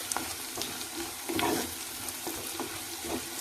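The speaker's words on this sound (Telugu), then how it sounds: "బాగా కలుపుతూనే ఉండాలి లేకపోతే మట్టి పాత్రకు అడుగంటుతుంది" Chana dal fry being stirred in a clay pot, a spoon scraping and knocking against the pot in repeated strokes over a steady close sizzle of frying.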